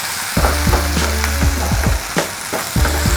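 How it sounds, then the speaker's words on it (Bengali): Spice masala for mutton korma fries and is stirred in a pan, with a steady close sizzle and repeated scraping strokes of the spoon every half second or so, without any talk. "মশলাটা অনেকটা ভাজা হয়ে গেছে"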